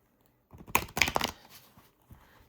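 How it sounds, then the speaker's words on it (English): Tarot cards from an Anima Tarot de Marseille deck being shuffled by hand, a quick burst of crisp riffling and slapping close up, then a few softer taps as the deck settles. "And you can see this isn't shuffling bad."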